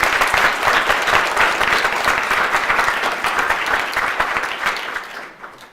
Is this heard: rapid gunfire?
no